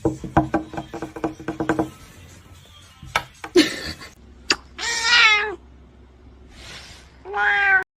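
Kitten meowing in several separate cries, with two clear, rising meows near the end; a quick series of knocks or taps comes first, and there is no talking.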